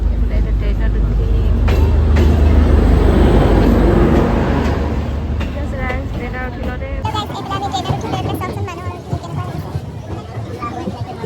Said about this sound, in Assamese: এইফালে আমাৰ ট্ৰেইন আহি গ'ল দেই